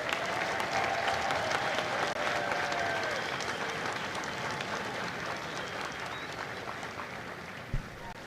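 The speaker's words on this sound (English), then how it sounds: "please join me in a round of applause for the company staff of Company C" Spectators at a Marine Corps boot camp graduation ceremony in San Diego applaud the company staff, a broad outdoor wash of clapping heard from a distance that holds steady, then slowly fades, with a single sharp knock near the end.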